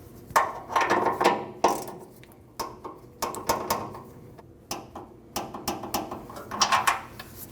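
Drive shaft nuts on a 2012-2021 Nissan NV2500 5.6L V8 being tightened down with a wrench toward 18 foot-pounds: repeated short bursts of close, clicking ratchet strokes in an uneven rhythm.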